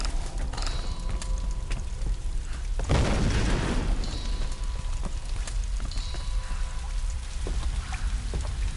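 Grenade blasts in the Tomb Raider video game on PS4, a broad noisy burst near the three-second mark over a constant crackling, rain-like game ambience with scattered sharper hits.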